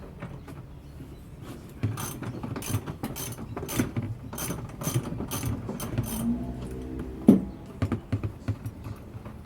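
Ratchet undoing the bolts on a Toyota Landcruiser driver seat, with a steady stream of close clicking pawl bursts in uneven spurts and one sharper clack near the end.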